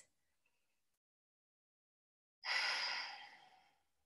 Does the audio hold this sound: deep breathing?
yes